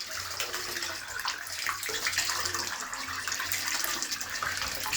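Heavy, continuous gushing and splashing of water pouring out of a cut water line running from uphill, a steady loud rush with no pauses throughout.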